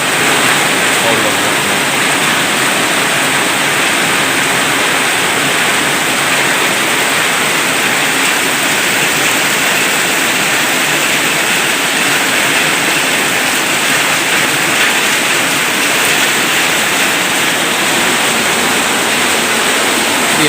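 Continuous heavy rain roaring steadily throughout, a thick unbroken wash of noise close by, with no pauses.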